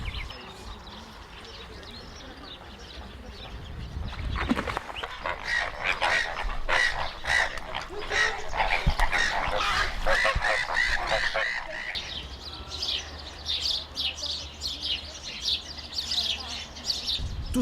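A dense chorus of birds, likely geese, chirps and calls in an ornithological park with created wetland islets, a continuous busy chatter rising in the middle, heard under someone talking.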